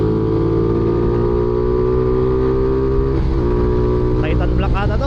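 Honda Titan Black motorcycle with an open airbox, a loud, steady droning engine note that wavers in pitch toward the end as a voice talks over it.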